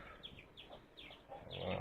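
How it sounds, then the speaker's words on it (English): Chickens in a remote Guizhou village cluck and chirp in short bursts at moderate distance, a few faint calls spread across the moment. "there's some chickens here"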